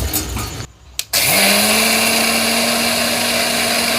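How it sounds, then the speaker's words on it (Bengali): A blender switches on and grinds soaked atap rice, rising into a loud, steady, high motor whine after a brief pause and start-up, close and continuing to the end. "প্রথমে আমি আতপ চালটাকে আমি বেটে নেব"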